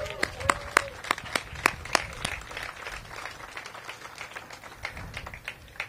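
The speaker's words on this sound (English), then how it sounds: "That's worth applauding." An audience at a groundbreaking ceremony for 263 new homes at Skyland Town Center claps in scattered, sharp hand strikes, a few loud claps standing out near the start before the clapping thins into lighter, irregular patter.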